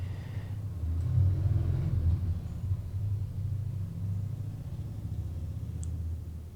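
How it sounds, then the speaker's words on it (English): A low engine rumble, like a motorcycle, swells early on and then idles steadily at moderate volume. "It's a motorcycle, huh?"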